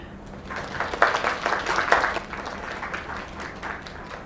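A crowd in a video game applauds steadily for a few seconds, clapping swelling then easing slightly, with faint background sound and no clear talking.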